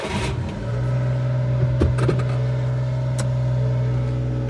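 A four-wheel-drive truck at a car auction in Osaka starts up and settles into a steady idle after a brief crank, with a couple of clunks as it catches, heard up close.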